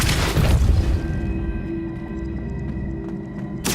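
A Depulso spell blast in the video game Hogwarts Legacy, a loud booming burst up front that decays into a sustained resonant hum with faint scattered clicks, ending in a sharp crackle.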